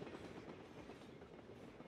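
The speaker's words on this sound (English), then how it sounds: "the whole thing like shakes when the train's going by" Train passing by in the video game Drug Dealer Simulator, a continuous low rumble with faint clattering, steady and moderately distant throughout, with no voices.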